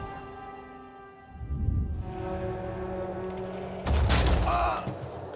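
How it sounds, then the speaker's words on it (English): A heavy Hell Cannon fires in the Phoenix Point strategy game with a booming blast and a rattling burst of impacts, over a sustained electronic music drone. "I do really, really like that Hell Cannon"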